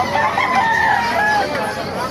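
Chickens and roosters at a poultry market in Bocaue, Bulacan, with a rooster crowing in drawn-out calls over a steady hubbub of crowd voices close by.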